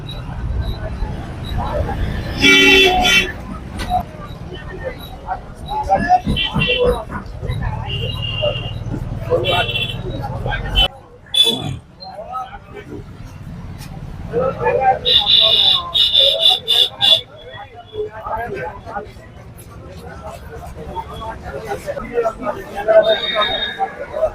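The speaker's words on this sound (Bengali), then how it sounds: "আজকে আমরা চলে এসেছি তালপুকুর হাটে সবে মাত্র হাট বসেছে" A weekly village market at Talpukur bustles with dense crowd chatter, shouting vendors and intermittent electronic beeps, with a brief lull midway before the busy hubbub returns.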